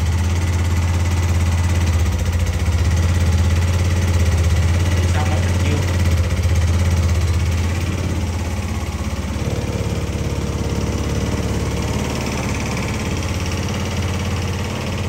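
A Vietnamese motorbike with its original stock engine idles loudly and steadily up close, a continuous low rumbling throb with a voice speaking faintly over it.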